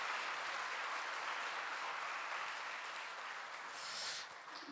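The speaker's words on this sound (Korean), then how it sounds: "우리 뜨거운 박수로 환영해 주시기 바랍니다" A church congregation claps in welcome for a newly registering member during a Sunday service, a steady, fairly quiet wash of applause that holds for several seconds and eases slightly near the end.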